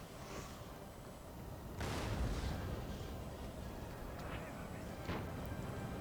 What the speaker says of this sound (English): Looks like our artillery is focusing on theirs, which is good.